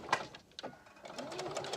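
Sewing machine stitching fringe, running in a steady, fairly quiet buzz with brief uneven bursts of needle motion, close by, no talking.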